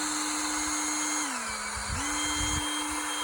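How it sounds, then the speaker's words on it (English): A power drill bores into part of a Woodland Mills 130 Max sawmill, a steady whining motor tone that dips in pitch as the bit bites under load, then quickly returns to full speed, close and loud. "I'll just drill one on this side too."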